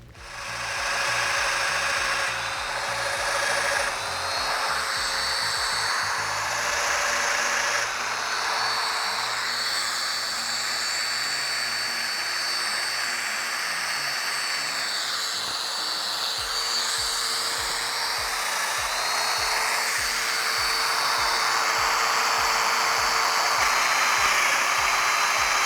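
A power tool runs steadily while it cuts 28mm mortises into a cabinet panel. Its whine holds for the whole stretch, with slight shifts in pitch, and rapid pulsing grows stronger toward the end. The tool is loud and close, with no talking.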